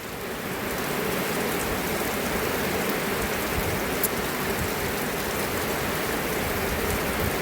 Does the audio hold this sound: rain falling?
yes